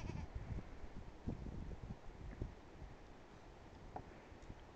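Goats on a farm bleat intermittently at a moderate distance, short calls rising over steady wind noise and outdoor rustle, with no talk.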